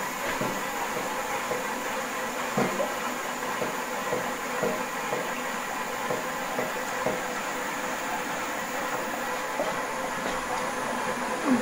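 A homemade DIY steam turbine, running at just under 12 pounds of pressure, gives a steady hissing rush with soft, irregular chugging thumps underneath, close and continuous with no voices.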